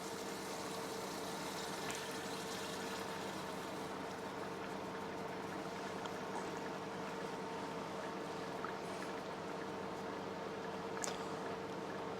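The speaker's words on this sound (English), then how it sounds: "again that bubbling will be less" Liquid nitrogen bubbling and seething around a C-clip holder as it cools to equilibrium during cryo-EM grid clipping: a steady, faint, continuous boiling hiss with small crackles, unbroken for the whole stretch, with no voices.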